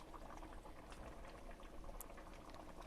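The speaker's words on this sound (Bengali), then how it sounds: "দেখতে পাচ্ছেন আমার তরকারিটা একদম ফুটছে টকবক করে" Potol (pointed gourd) and potato curry boiling in a pan gives a steady, close, dense bubbling and simmering that carries on evenly throughout with no talk.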